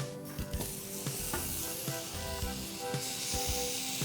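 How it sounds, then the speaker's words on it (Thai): Apple slices stir-fry in a pan while cooking a German pancake, with a steady close sizzle and occasional soft taps and scrapes of stirring, and no talking. "เราใส่แอปเปิลลงไปผัดครับ"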